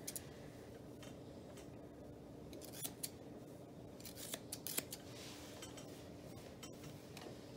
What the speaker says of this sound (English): I'm just trimming just a little bit on his.